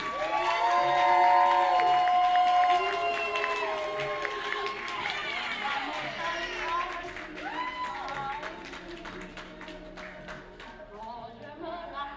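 A live audience on its feet clapping and cheering for a performer's entrance, loud whoops and shouts over dense applause that gradually thins and fades across the stretch.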